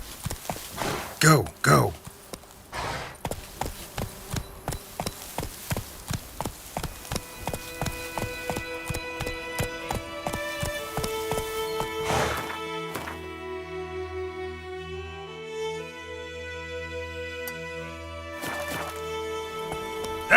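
Roach the horse's hooves clip-clop in The Witcher 3 game, starting as a steady rapid gallop, then slowing to lighter steps as music takes over, with someone briefly speaking over it.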